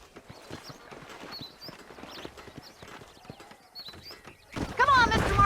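Horses' hooves clip-clop in the Red Dead Redemption video game, steady and moderately close beneath ongoing character dialogue, and a louder burst of noise closes the passage.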